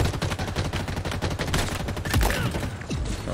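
Rapid machine gun fire in Halo Infinite, a fast burst of close, loud shots in quick rhythm with a couple of heavier impacts near the end.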